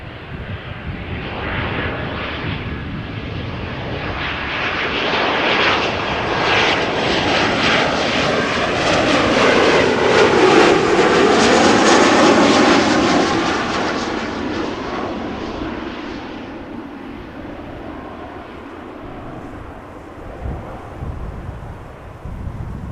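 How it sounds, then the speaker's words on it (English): A KLM Embraer 190 jet arriving at Amsterdam Schiphol airport roars in from a distance, swelling to a loud broadband engine rush mid-pass and then fading away, with light wind noise and no talking. "there is an Embraer 190 arriving from KLM"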